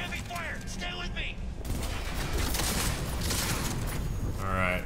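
Dense, sustained gunfire from the video game Cyberpunk 2077 fills the clip, a continuous loud barrage that swells after the opening second, with game voice sounds mixed in.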